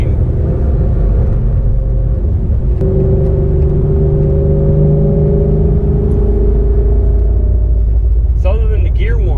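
An 800+ HP Ford Mustang driving steadily, a loud continuous engine drone carrying a sustained tonal gear whine that holds and shifts slightly in pitch, with a brief bump near the end.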